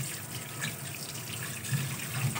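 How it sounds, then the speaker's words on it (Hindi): A fish is rinsed under fresh running tap water, a soft, continuous splashing and trickling stream into a sink with slight swells in flow, quiet and close, with no talking. "अब हम इसको फ्रेश वाटर से वॉश करते हैं।"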